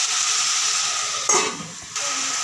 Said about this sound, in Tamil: எல்லாம் நல்லா வதங்குற வரையும் நம்ம வந்து மூடி போட்டு வச்சுக்குவோம்